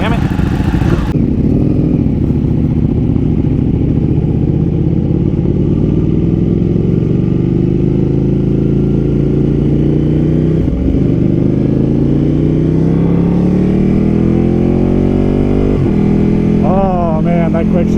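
A Ducati Panigale motorcycle accelerates hard and close, its engine note climbing steadily with rapid quick-shifter gear changes briefly chopping the sound, under heavy wind rush.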